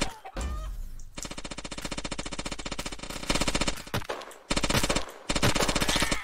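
Rapid automatic gunfire from a weapon in the egg-themed shooter game Shell Shockers, loud and close, sustained bursts of fast regular shots broken by a few short pauses, with no talking.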